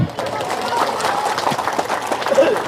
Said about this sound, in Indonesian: Tepuk tangan lagi Bapak.